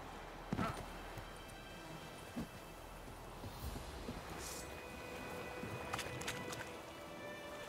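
A horse ridden in The Witcher 3, hooves clip-clopping faintly over a constant rain-like ambient hiss, with a few louder knocks scattered among softer steps.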